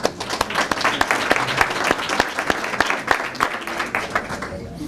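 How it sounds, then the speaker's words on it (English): An audience at a village State of the Village event applauds steadily, many hands clapping at once in a dense, sustained patter that fades slightly toward the end. "A big round of applause to Bohemian Crystal"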